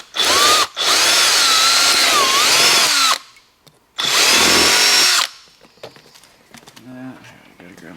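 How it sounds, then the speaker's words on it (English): A power drill fitted with a 1/2 inch bit drills into a plastic water bottle in two loud, whining bursts, the first longer than the second, separated by a short pause. Someone speaks quietly after the drilling stops. "switch the bit over to a 1/2 inch."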